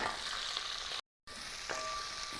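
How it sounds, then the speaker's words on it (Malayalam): Mixed vegetables, about two kilos with curry leaves, sauté in coconut oil for aviyal, giving a steady close crackling sizzle that drops out for a brief moment before carrying on. "ഇനി ആ വെളിച്ചെണ്ണയിൽ ഒന്ന് സോട്ട് ചെയ്തെടുക്കുക ഈ വെജിറ്റബിൾ എല്ലാം കൂടെ"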